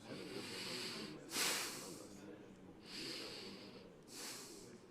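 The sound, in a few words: nose breathing into a microphone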